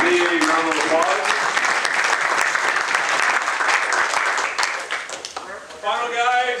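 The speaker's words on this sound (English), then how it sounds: "let's give all our state finals a big round of applause" An audience at a sports officials' membership meeting applauds the state finals referees with a full, sustained round of clapping, while voices and brief cheers ring out at the start and again near the end.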